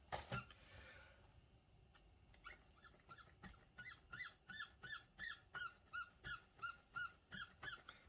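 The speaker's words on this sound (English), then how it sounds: "My Blu-rays are squeaking." Blu-ray cases being handled during an unboxing give a steady run of short, regular squeaks, about two per second, each one faint and close, after some initial rustling.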